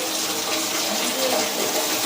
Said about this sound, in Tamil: ஒரு தண்ணி ஊற்றுவேன்.